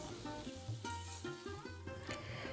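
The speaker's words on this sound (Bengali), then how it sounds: "মিডিয়াম টু লো ফ্লেমে আমি আলুটাকে সাঁতলে নেব।" Potatoes sautéing in a pan over a medium-low gas flame while cucumber-coconut vegetable curry is cooked, a steady soft sizzle with light stirring scrapes, close and continuous, with no one talking.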